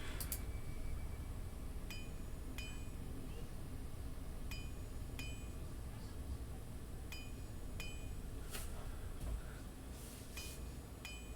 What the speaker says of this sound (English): It sounds like a hammer on an anvil.